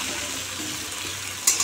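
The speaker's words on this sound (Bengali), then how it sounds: "লাল করে এখন ভাজবো" Cauliflower and potato frying in plenty of mustard oil, a steady hissing sizzle close by, ending with a brief brighter clatter, and no talking.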